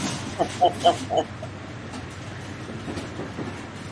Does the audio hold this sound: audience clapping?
no